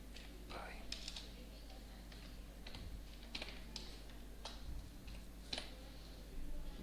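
Computer keyboard typing Java code, with irregular bursts of clicking keys and short pauses, fairly close, over a steady low hum with no talk.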